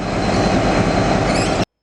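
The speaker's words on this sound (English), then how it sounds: "I travel from Melbourne to Bendigo on V-Line's N-Class passenger train" V/Line N-Class diesel-electric locomotive hauling a passenger train in Victoria, heard as a steady, loud rumble of running train noise with rolling wheel and carriage sounds, continuous and without talk, ending abruptly.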